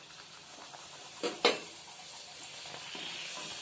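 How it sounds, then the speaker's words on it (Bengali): Palang saag kochuri fry in hot oil, giving a soft, steady sizzle, with two brief louder bursts of spattering as pieces are pressed or turned, and no speech. "আমি এবারে একটা একটা করে ভেজে নিয়ে দেখাচ্ছি আপনাদের।"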